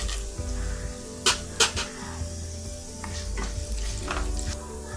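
Cumin, urad dal, chana dal, curry leaves and green chillies crackle in a spoon of hot oil, a loud close sizzle broken by a few sharp spitting pops and light clinks of a spoon against the pan.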